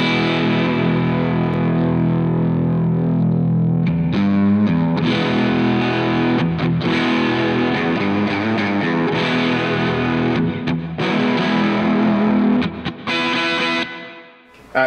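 An electric guitar played through a heavy drive pedal gives thick, saturated distorted chords and notes, loud and sustained throughout, with a few pauses between phrases near the end.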